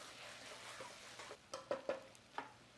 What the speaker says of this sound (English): now I'm gonna add the pasta in slowly. You just kind of mix it through.